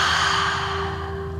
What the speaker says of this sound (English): Open mouth, exhale, drop the shoulders.